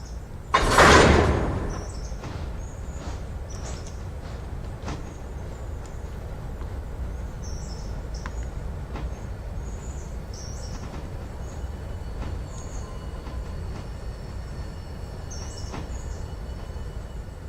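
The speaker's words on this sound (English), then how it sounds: "Kick that train brake out of there." A train brake in the railway game Railroader is released with a sharp hiss of air, followed by a steady low rumble and faint mechanical clinks and creaks.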